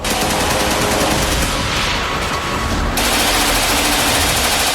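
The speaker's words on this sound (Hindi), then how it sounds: "हाईटेक मशीन गनों से लैस आतंकी लड़ाकों ने बिस्मिल्लाह मोहम्मदी के घर पर अंधाधुंध फायरिंग की।" Loud, continuous rattling machine gun fire that keeps going without a break, dense and close, with no voices, from an attack on a house in Kabul.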